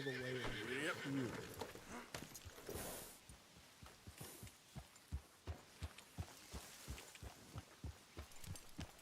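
A horse whinnies in Red Dead Redemption 2, a rising, wavering neigh up close, followed by a steady run of hoof clip-clops and footfalls with a brief voice over it.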